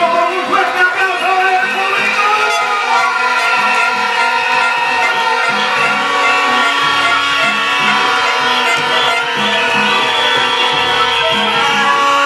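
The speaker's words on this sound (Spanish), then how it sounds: "Vamos a recibirlo con un fuerte aplauso." A street party crowd in a neighbourhood of Pueblo Nuevo cheers and whoops loudly and continuously, with shouting voices and applause merging into a dense, steady roar.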